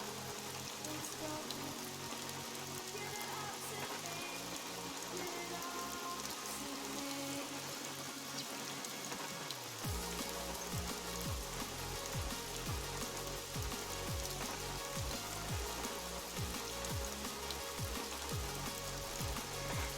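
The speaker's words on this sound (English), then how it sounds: "The rain is drowning out the music. Why is it always raining in my games?" Rain falls in the hunting game theHunter Call of the Wild, a soft, steady patter and hiss that runs unbroken beneath background music.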